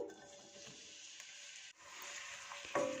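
Chopped onion frying in half a cup of cooking oil in a pan, a soft steady sizzle with a brief dip midway and a sharper burst of hiss near the end; no talking.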